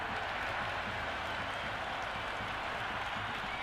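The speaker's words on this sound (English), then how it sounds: "the crowd have joined the party. It's pretty noisy at the ground." Cricket crowd applauding at a stadium during an India versus Pakistan T20 World Cup match, a steady dense wash of clapping and crowd noise lasting the whole stretch at moderate distance.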